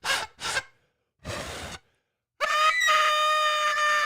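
A party noisemaker blown in a few breathy, rasping puffs, then a sustained shrill, wavering squeal much like a dying chicken, loud and close.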